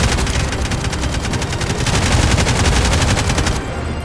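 Rapid automatic gunfire from the Roblox Jailbreak video game, a loud, dense stream of shots rattling continuously for several seconds with no voices.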